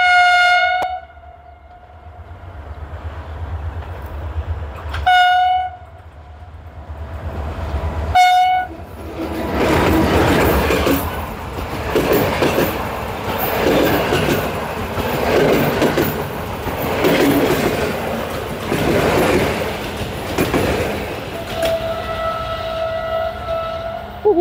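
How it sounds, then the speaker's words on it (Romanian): Constanța–Mangalia regional train arriving and passing, with several loud horn blasts followed by a long roaring rush of wheels and rail clatter, then a final horn note as it fades. "Haideți că vine trenul."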